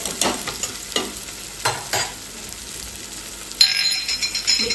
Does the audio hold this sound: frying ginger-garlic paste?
yes